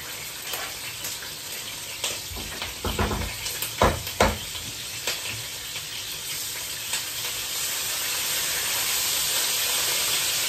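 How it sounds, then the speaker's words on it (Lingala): Onions frying in oil over moderate heat in a Congolese home kitchen, a steady sizzle with a few stirring scrapes and clatters early on, settling into continuous frying hiss. "Nazo tia siko ba onyo ba mama lokola mafuta na biso na ezui moto makasi te."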